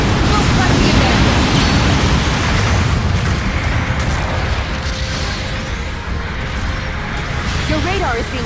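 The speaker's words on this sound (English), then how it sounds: "Long-range supporting fire incoming!" Long-range supporting artillery fire in a Gundam mobile suit game, a loud, sustained rumble of booming blasts filling the whole stretch, with game voices and chatter mixed in beneath the barrage.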